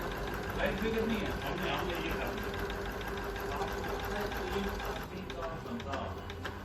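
A Juki HZL 009 multi-function sewing machine runs steadily while stitching a triangle embroidery design, a close continuous mechanical hum and rattle with a voice speaking over it.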